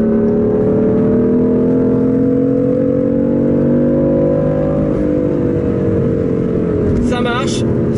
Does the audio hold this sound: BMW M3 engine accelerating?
yes